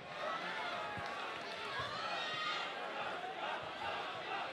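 Loud crowd roaring and shouting continuously at a corporate amateur boxing fight between Ian Rose and Gup Gill, a dense, sustained wall of cheering voices throughout.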